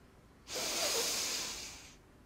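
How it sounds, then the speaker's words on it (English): One forceful nasal exhale, done as double breathing in a yoga energization exercise, comes as a breathy hiss lasting about a second and a half against near silence, then fades out. "when we exhale with double breathing through the nose, we release the tension"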